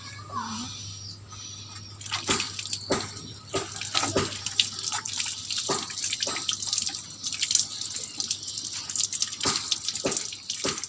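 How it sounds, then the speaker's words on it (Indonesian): Hands being rinsed with soap under a running tap, water splashing and dripping unevenly in close bursts over a steady low hum, with a voice speaking at the start. "Bilas atau gosok tangan yang bersabun dengan air mengalir."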